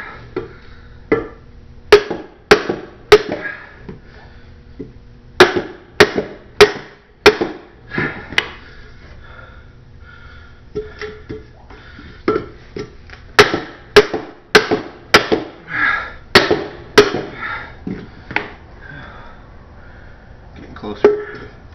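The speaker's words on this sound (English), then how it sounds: "so I'm gonna hit it a little bit on this side" Steel helmet halves being hammered together before welding: sharp metallic hammer blows come in quick clusters of three to five, with short pauses between groups, close and ringing over a faint hum.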